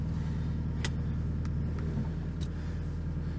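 An OPENROAD electric winch hauls a vehicle with the handbrake released, giving a steady low motor drone and rumble throughout, with a few brief high clicks over it and no talking.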